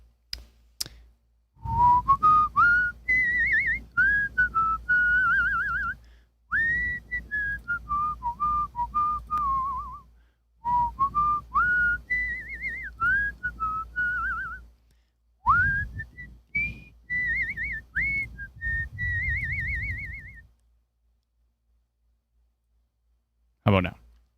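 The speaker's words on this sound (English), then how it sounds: "can you now hear my whistling?" A person whistles a melodic tune in several phrases separated by short pauses, close and clear, with light clicks and rustles underneath.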